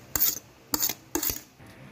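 Buko salad ingredients such as sago and fresh coconut being mixed in a bowl, three short scraping clinks of a utensil against the bowl, close and distinct, with no talk.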